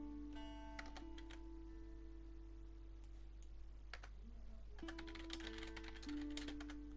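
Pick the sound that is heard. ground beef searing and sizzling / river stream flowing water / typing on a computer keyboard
typing on a computer keyboard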